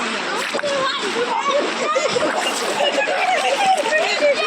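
River water splashes and sloshes continuously as a person takes a dip in the Khadwali river, with lively crowd chatter and voices from other bathers nearby.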